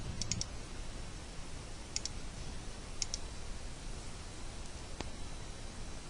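Computer mouse clicks sound while operating mapping software: a few sharp, isolated taps spaced roughly a second apart over a faint steady hiss, close and quiet with no speech.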